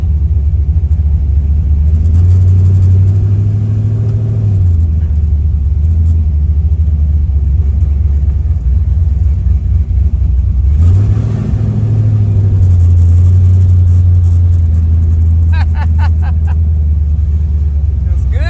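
A 1971 Chevelle with a modified TH400 transmission rumbles steadily on a test drive, a loud, continuous low engine drone that swells twice as it revs, with occasional cabin rattles near the end.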